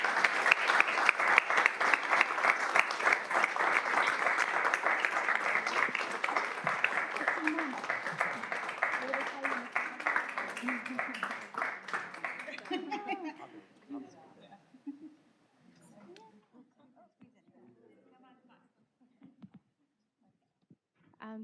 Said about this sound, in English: you deserve a big, big round of applause